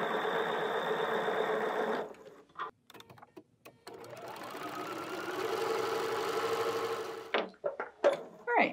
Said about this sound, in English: You'll notice I like to chain piece a lot when I'm quilting.